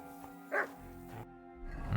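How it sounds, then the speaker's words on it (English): A dog in the medieval game Kingdom Come: Deliverance 2 gives a few short barks and yips, spaced apart over a quiet background. "Alright, dog. You calm the fuck down."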